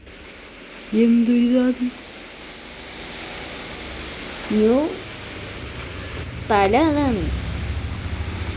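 Steady rushing water wash in a Roblox game after a vehicle sinks, a continuous low hiss running throughout beneath someone speaking Malayalam in short bursts.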